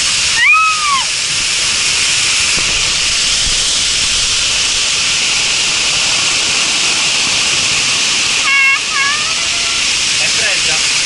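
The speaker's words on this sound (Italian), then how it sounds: "non è mai stata così mossa l'acqua in questa zona" Rushing, hissing water from a water ride at the Gardaland amusement park, a steady loud spray that runs throughout, with brief shouts and voices breaking through near the start and again later.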